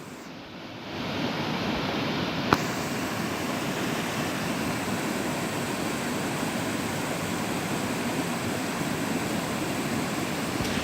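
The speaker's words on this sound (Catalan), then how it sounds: "Ahí dalt està la cascada." A waterfall on the Serpis greenway roars in a steady, broadband rush that begins after a brief quieter moment and then stays constant, with one sharp click early on and no talk.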